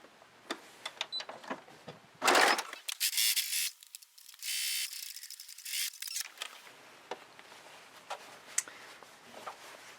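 A sewing machine runs in two bursts, a short one and then a longer steady whir, stitching pockets onto the side seams of a McCall's 6696 shirtdress, between quieter handling clicks and rustles.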